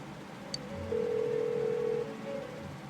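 A phone rings unanswered in the video game Persona 4 Golden: a steady electronic ringing tone held for about a second, fairly quiet over a low background hum, with no talking.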